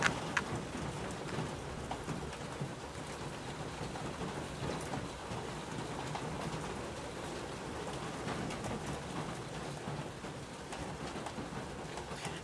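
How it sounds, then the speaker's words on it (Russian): Heavy rain pours steadily and loudly throughout, with low rumbles of thunder rolling underneath the dense hiss of the downpour. "Ливень и гром – это прекрасное дополнение к нашему ролику."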